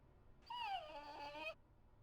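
Dog whimpering in the Persona 3 FES video game, a single close, high, wavering whine lasting about a second, descending in pitch, alone against quiet background.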